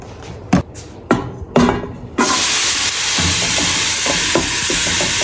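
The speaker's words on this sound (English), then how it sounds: "let's get some olive oil going for our onions" A few hard knocks and taps of a pot come first, then chopped sweet onions hit hot olive oil and a loud, steady sizzle takes over and carries on to the end.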